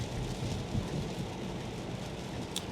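Steady rain drumming on a Tesla driving on autopilot through Royal Oak, Birmingham and Bloomfield, Michigan, a dense continuous wash of patter and road noise filling the cabin with no talk.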